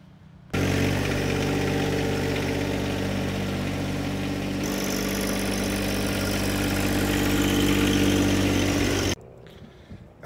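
A John Deere 1025R compact tractor drives a 100-foot stretch, its engine a loud steady close drone that shifts pitch midway, then cuts off abruptly near the end.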